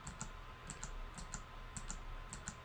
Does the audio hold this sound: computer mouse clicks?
yes